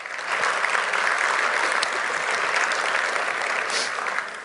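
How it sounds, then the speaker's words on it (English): An audience at a West Michigan economic and real estate forecast event applauds its sponsors, a steady, dense round of clapping from a sizable crowd that holds evenly for several seconds before tapering slightly. "I'd ask if you could give me a round of applause for their support"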